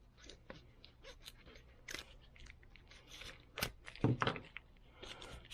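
Scissors snip through a sealed black plastic baggie holding a quick start guide for AXIL XCOR electronic hearing protection earbuds, giving crunchy plastic cuts and crinkling, with the loudest snips near the end and no speech.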